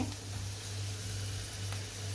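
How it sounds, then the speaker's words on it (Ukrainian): Mushrooms and onion fry in a pan on medium heat, giving a steady, even sizzle with a low hum underneath. No voices are heard. "перемішую і знову ж таки на середньому вогні буду смажити до моменту, поки із грибів не випарується вся рідина"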